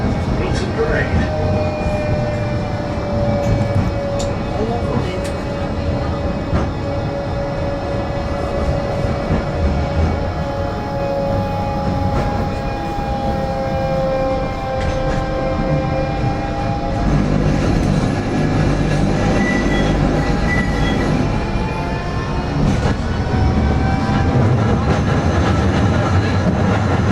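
A Blackpool tram rolls along its rails with a continuous low rumble and rising, whining tones as it moves, heard from inside the car.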